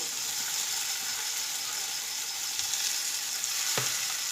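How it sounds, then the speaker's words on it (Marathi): Finely chopped cabbage stirred and fried in a pan, a continuous close hissing sizzle with a single sharp scrape of the spoon near the end. "आता हा कोबी देखील आपल्याला यामध्ये व्यवस्थित मिक्स करून घेऊया"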